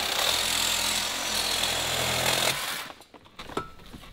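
Sawzall reciprocating saw cutting into a wrecked C6 Corvette, a loud, harsh buzzing roar that runs steadily for about two and a half seconds, then stops, leaving a few clanks and knocks.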